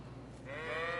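A sheep in the medieval video game Kingdom Come Deliverance gives a single short bleat, rising in the second half over a low steady hum, faint and close with no talking.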